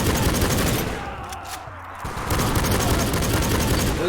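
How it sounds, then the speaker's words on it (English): In the video game Soldier of Fortune: Payback, a barrel explodes after a stray bullet hits it amid heavy gunfire. A loud, dense burst of shots and blasts briefly drops away, then the roar of fire resumes. "A stray bullet went into the barrel. Because those barrels explode."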